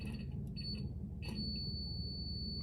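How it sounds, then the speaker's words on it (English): A multimeter on continuity mode beeps while ground faults are checked on a 1983 Jeep CJ-8 Scrambler, giving a few thin, high electronic tones, short chirps then a sustained steady tone over a low background hum, fairly faint. "You can hear my multimeter."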